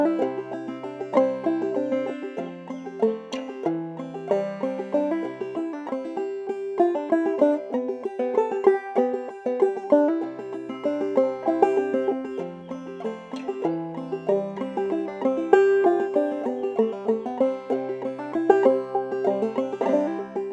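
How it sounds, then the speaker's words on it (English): Clawhammer banjo picked with alternating index finger and thumb, carrying melody, chords and rhythm together; a steady, bright plucked pattern plays on its own for about twenty seconds at moderate level. "one simple definition would be to say that it's a playing style defined by the alternating use of the index finger and thumb"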